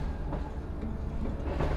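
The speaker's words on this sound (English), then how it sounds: "Going out on trains" A train rolls steadily along its rails with a continuous low rumble and faint clatter, close and even throughout, with no voices.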